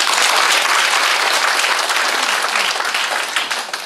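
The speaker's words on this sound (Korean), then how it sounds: "큰 박수 부탁드립니다." Audience applauding at a company branch expansion seminar in Korea, steady dense clapping filling the room at full loudness, then tapering slightly toward the end.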